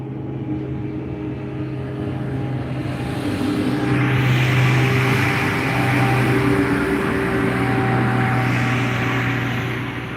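Traffic passes on a nearby road as a steady, loud engine rumble and tire roar that swells and fades while vehicles go by, with no talking.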